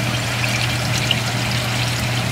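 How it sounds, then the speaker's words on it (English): Hot water pours steadily from the pump hose of an off-grid solar hot tub collector, a continuous close broadband splash with a steady low hum underneath and no talk. "here's the hot water coming out"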